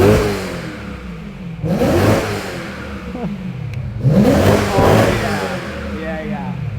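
A BMW E90 M3 engine revs hard twice through a throaty Akrapovic sport exhaust, each burst rising and falling, loud and close, with voices talking underneath.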